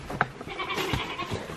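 Goats bleat on a small farm, a few short wavering calls close by, fairly quiet with light background noise.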